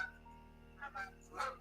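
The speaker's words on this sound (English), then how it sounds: "apparently I'm under fire by the geese, man" A few faint goose honks at a distance, three short calls rising over quiet background noise with no one speaking.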